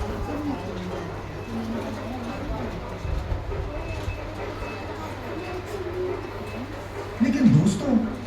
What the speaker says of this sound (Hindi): रेलगाड़ी हवा छोड़ते हुए तेजी से आ रही है।